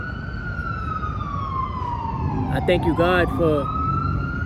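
An ambulance siren wails as it passes through New York City streets, its sweeping tone rising in loudness, then bending and shifting pitch with a brief yelp section, while someone talks over it.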